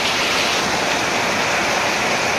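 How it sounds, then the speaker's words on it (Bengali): Heavy rain comes down hard enough to wash soil away from the houses, a dense, unbroken hiss that stays loud and even throughout. "আবার আর এক জায়গায় এত বৃষ্টি নামছে বাবা রে"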